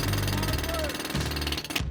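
A jackhammer pounds concrete in short bursts of rapid hammering, close and loud, with brief pauses between runs.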